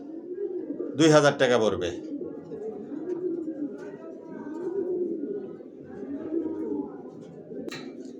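Pigeons coo steadily in a racing pigeon loft, low rolling murmurs repeating throughout, while someone talks loudly near the start and wings or movement flutter briefly near the end.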